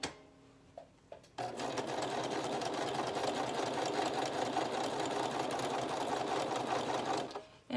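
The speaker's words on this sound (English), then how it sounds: "I'm just going to stitch all the way around the pattern." A sewing machine stitches around a fabric journal cover made from a vintage sewing pattern, a fast steady mechanical whir that starts after a few faint knocks and runs nonstop for several seconds before stopping.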